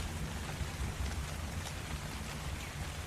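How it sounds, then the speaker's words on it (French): Steady rainfall in the ARK: Survival Evolved video game, a dense, even hiss with a low rumble beneath it that holds at the same level throughout, with no voices. "et il pleut toujours"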